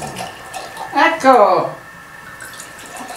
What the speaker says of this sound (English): is pouring our wine